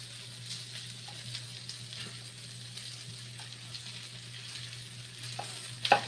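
Rice fries in oil for Ghana-style fried rice with a steady, moderate sizzle and a low background hum. A few faint clinks come near the end, and no voices are heard.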